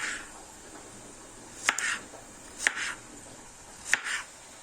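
A knife chops through zucchini on a cutting board for a salad, three crisp, close cuts spaced about a second apart, each a sharp tap with a short scraping follow-through, no voices.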